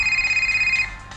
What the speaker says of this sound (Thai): โทรศัพท์เข้าครับผม